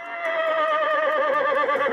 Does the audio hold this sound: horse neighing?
yes